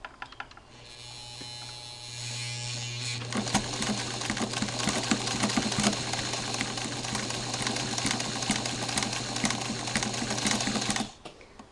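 A sewing machine stitches a knitted doll sweater, starting with a soft hum, then breaking into a loud, fast, steady mechanical whir for several seconds before it stops abruptly near the end.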